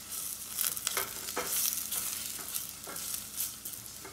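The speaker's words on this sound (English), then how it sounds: "Give it a quick stir and hit it with a little salt and pepper, of course." Onions and peppers frying in a pan are stirred, with a faint, steady sizzle broken by repeated scraping strokes of the utensil, and no voices.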